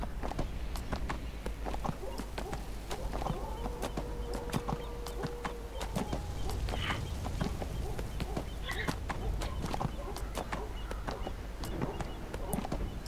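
Horse galloping in the Neverwinter online game: steady rapid clip-clop hoofbeats throughout, fairly quiet, with faint game effects and occasional other sounds in the background.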